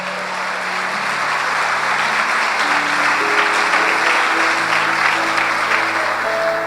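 Sustained applause from a church congregation during a worship service, a steady dense wash of clapping with sustained tones from an organ or keyboard holding underneath throughout.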